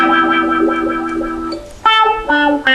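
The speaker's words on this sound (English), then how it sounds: "you might have noticed that I was using a wah-wah pedal then" Electric guitar played through a wah-wah pedal on a funky riff, with sustained effected notes, then sharp chord stabs near the end, loud and alone with no talk.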